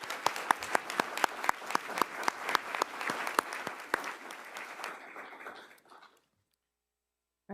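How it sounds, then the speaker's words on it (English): A small room of people at a regional board meeting giving a round of applause, sharp individual claps standing out over steady clapping that fades away into silence after about six seconds. "Give her a round of applause."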